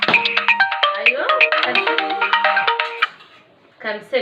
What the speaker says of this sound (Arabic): مين بيرن عليا؟ مش وقته.